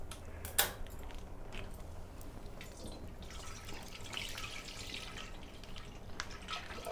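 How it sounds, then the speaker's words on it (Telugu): A litre of Tirumala milk is poured into a pot for boiling while making paala thalikalu, a sweet milk dessert. A sharp splash at the start gives way to a steady, quiet trickle of liquid, with no talk. "పాలు పోసుకుందాం, పాలు కాగబెట్టుకుందాం"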